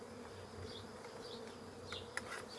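Honeybees buzz around an open wooden hive being worked by a beekeeper, a soft steady drone with occasional closer passing bees, faint and continuous with no talk.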